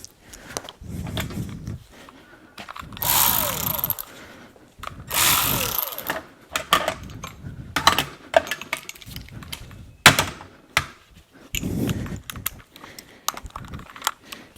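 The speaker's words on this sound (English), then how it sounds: "we're just going to remove those 4 bolts from the bracket so we can lift it up" Work on the A/C compressor bracket of a GM OBS truck with a 6.5L diesel: a power tool whirs in several short bursts amid clanks and rattles of bolts and tools, close and fairly loud, with no talking.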